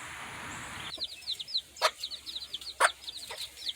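Backyard chickens clucking softly in quick, rapid strings, near and fairly quiet, with a few sharp knocks and clatters mixed in.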